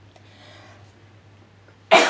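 A single sharp cough from chili powder irritation while tamarind is crushed on a stone in a home kitchen, bursting out loud and close at the very end after near silence.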